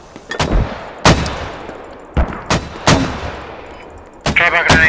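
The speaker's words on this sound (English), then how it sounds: "Wait, I should mortar two rounds." Squad video game mortar rounds firing: several loud, sharp booming blasts at irregular intervals, with a rising whine or tonal noise near the end.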